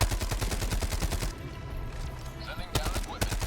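Autocannon fire in Helldivers 2 with rapid, loud, evenly spaced booming shots, a pause with lighter game sounds, then a few more heavy shots.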